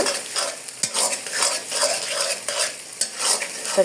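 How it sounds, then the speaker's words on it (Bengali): An egg frying and being stirred in a pan, busy scraping strokes over a constant sizzle with a few sharp clinks of the utensil, close and loud. "সুন্দর করে আমি ডিমটাকে ভেজে নিব"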